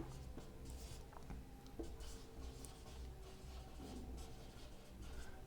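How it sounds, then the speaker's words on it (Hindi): Chalk or marker writing on a board during an accountancy lesson, with soft scratchy strokes and small taps that come and go faintly at low volume. "डिबेंचर लिख देता हूँ"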